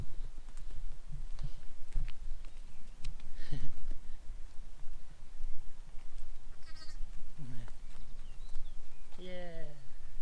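Lambs and sheep bleating in a field, several short wavering calls scattered across the clip at moderate distance, over steady outdoor background noise.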